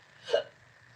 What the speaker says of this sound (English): I have hiccups.